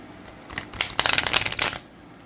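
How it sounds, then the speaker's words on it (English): A deck of tarot cards with good cardstock is shuffled up close, giving about a second and a half of rapid riffling and flicking that rises, holds and then stops cleanly, with no talking. "Okay, let's shuffle them because I think these are going to shuffle fantastic."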